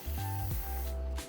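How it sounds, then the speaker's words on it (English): L'Oreal Infallible 3-second setting mist sprays in two close, breathy hissing bursts, the first long and steady and the second short, with no talking. "I'll spray and show it to you to see."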